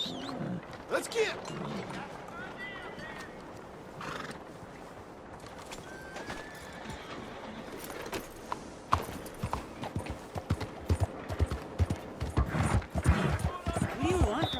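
Horse in Red Dead Redemption 2 near Saint Saturnine, whinnying and clip-clopping amid game ambience, with scattered hoof taps growing denser and louder toward the end and voices talking.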